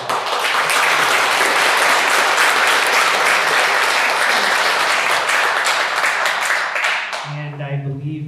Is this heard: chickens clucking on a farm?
no